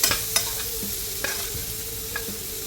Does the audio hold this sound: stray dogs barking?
no